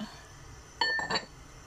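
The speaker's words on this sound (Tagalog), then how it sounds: "ilalagay natin yung baso doon. Tapos, lalagay natin siya ng 2 cover." An empty drinking glass set down and covered for steaming soup, giving a couple of close, bright clinks with a short ringing tone, quick and light against a quiet room.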